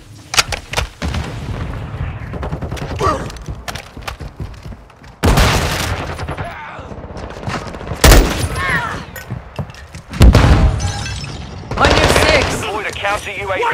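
M4 (HK416) rifle fire in Call of Duty Modern Warfare 2 multiplayer: sharp, loud bursts spaced through the clip, some with booming impacts, over quieter game ambience.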